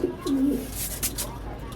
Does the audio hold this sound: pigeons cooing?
yes